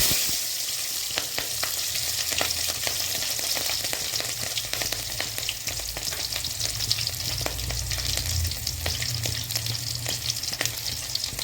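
Cumin, fennel and green chilies crackle in hot oil in a pan, a dense continuous sizzle with frequent sharp pops and light stirring, close and alone.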